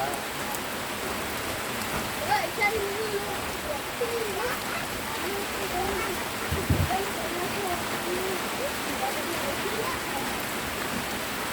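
Steady rain falls on a temporary roof, a dense even hiss with faint patter throughout and a brief louder thump near the middle.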